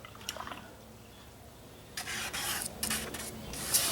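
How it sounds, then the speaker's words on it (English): Close, quiet rasping strokes of a paintbrush being wiped dry on cardboard, a short swipe followed by a longer scrubbing burst of rubbing. "even if I can get this paintbrush dry enough on this cardboard"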